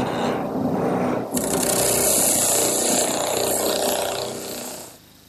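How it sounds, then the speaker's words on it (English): An oscillating spindle sander smooths a cut in a wooden part, a loud steady whir with a rough abrasive rub that runs for several seconds before winding down. "Not only does it turn, but it rides up and down, distributing the wear over a larger area of the drum"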